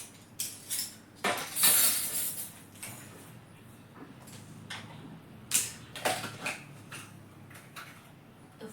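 A child plays with kitchen pots, pans and utensils, knocking them together in irregular bursts of metallic clinks, clatters and rattles. Fairly quiet and close, with short pauses between clusters and no talking.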